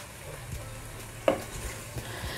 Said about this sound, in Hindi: अब मैं इसको जो है तेल में फ्राई करूंगी जब तक इसका जो कलर है वो चेंज नहीं हो जाता